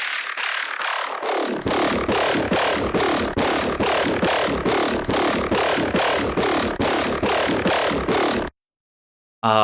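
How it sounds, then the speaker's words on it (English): A gritty, rhythmic synth bass growl pulses steadily in even repeated hits, loud and distorted, cutting out abruptly near the end. "this is a really cool alternative growl that I have"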